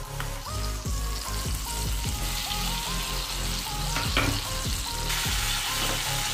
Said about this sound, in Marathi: आता यामध्ये आपल्याला मॅश करून घेतलेली केळी घालून घ्यायची आहे।